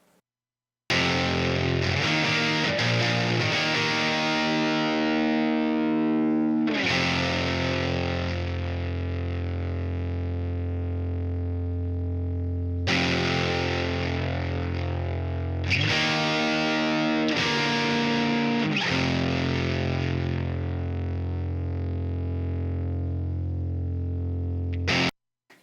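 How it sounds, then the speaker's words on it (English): Heavily distorted electric guitar run through effects, sustained chords ringing loud with crunchy, gritty tails, pausing briefly between phrases, with no talking. "Here's the guitar tone, again, panned left and right."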